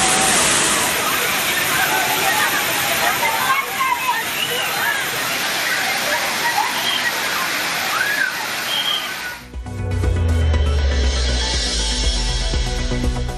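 Thirparappu waterfall in Kanyakumari district, swollen with heavy summer flow, pours as a loud, continuous rushing roar of falling water, shifting partway through to a closer, lower-pitched churning surge.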